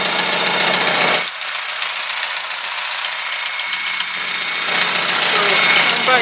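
A Farmall 140 tractor engine runs steadily after a carburetor rebuild, a loud close rumbling idle with a slight knocking pulse that carries on for several seconds.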